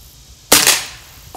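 A Trapmaster gun fires a single clear shell at a can outdoors. It makes one sharp, loud crack followed by a brief fading tail.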